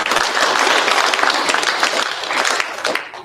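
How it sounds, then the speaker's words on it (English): An awards ceremony crowd applauds a drag racer who drove a 1932 hot rod, a loud, dense burst of many hands clapping steadily before tapering off at the end. "So round of applause for him, please."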